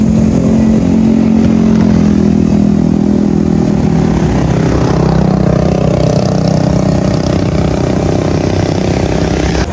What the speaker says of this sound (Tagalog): Sumakay nga pala sa tricycle si Papa Tampi.